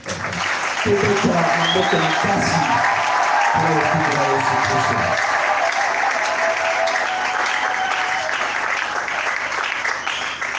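A church congregation breaks into loud, sustained applause and cheering that fills the space, with musical tones under the clapping early on before the applause carries on alone.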